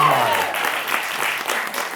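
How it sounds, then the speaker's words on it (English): An audience at a live stage magic show applauds a card trick with a short spell of full, steady clapping close by, and a brief low tone at the start. "you've got to give a huge round of applause"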